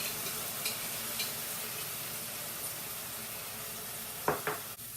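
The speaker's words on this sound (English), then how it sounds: "add some minced garlic into our pan" Minced garlic, about a tablespoon, sizzling in a pan for vegetable ravioli, a steady soft hiss throughout, with a couple of sharper stirring clinks near the end.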